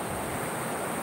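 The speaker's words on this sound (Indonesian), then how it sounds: "kita akan lihat ombaknya dari sini cukup mantap ini" Ocean surf breaking at a rocky beach cave on Kasih Beach, Sabang, a steady broadband roar of waves with no clear individual breaks, fairly close and constant throughout.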